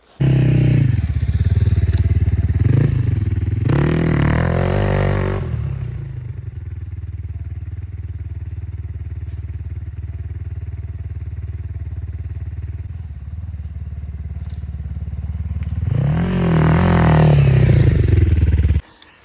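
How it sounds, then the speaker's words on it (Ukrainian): Motorcycle on a forest trail, engine revving loudly and close as it accelerates, then fading to a distant drone before roaring back up and nearing again at the end. "моцик, знаєте, витягує, він такий і дав жару"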